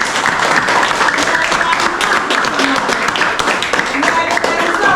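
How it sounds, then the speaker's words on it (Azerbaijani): Teachers and students in a classroom applaud in a steady, dense patter of clapping that lasts throughout, with voices talking over it. "Amma gəlin alqışlayaq da."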